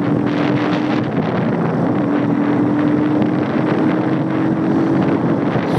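The motor of an RKS Sniper Pro scooter sputters and drones steadily as it runs on the last fuel in the tank, a loud, uneven buzz mixed with heavy wind noise and no talking.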